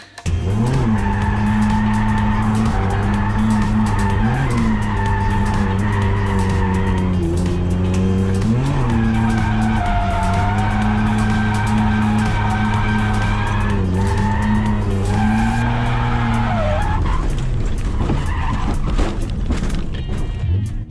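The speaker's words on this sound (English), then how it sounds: "Back to Queensland Raceway for more Gutless 31 skids." A car skids at Queensland Raceway, the engine holding a loud, sustained roar while the tyres squeal continuously for about twenty seconds, pitch wavering as it slides, with no talking.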